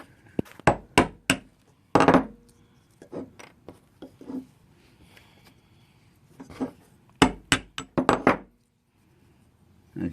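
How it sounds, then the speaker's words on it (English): Sharp hammer strikes on a small chisel split small firewood from the end in quick bursts of three or four blows, separated by pauses with soft handling noises. "to split your firewood, we're using a small chisel and a hammer"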